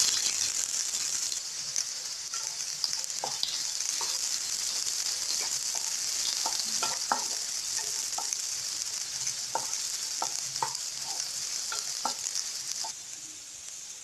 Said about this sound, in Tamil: வெங்காயம் லைட்டாக வதங்கணும்.